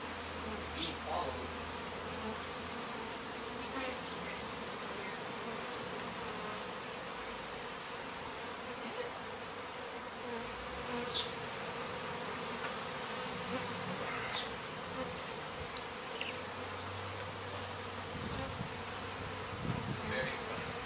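Honey bees swarm around newly arrived hive packages, a dense, continuous outdoor buzzing with individual bees passing close by now and then, fairly faint overall.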